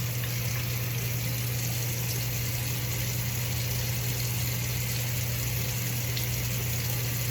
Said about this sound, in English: I can turn that water off instead of wasting it.